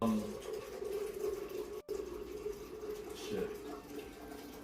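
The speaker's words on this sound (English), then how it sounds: "That's not me pissing, that's me getting water." Tap water running into a container in another room, heard faintly through a sensitive microphone as a steady hissing flow, with a man muttering briefly over it.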